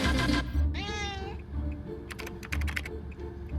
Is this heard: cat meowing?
yes